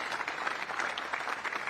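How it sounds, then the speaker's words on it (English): A steady round of audience applause for a basketball coach at a coaching talk, many hands clapping evenly at moderate loudness with no voices over it. "can we have a round of applause for Coach Kapoulas, please?"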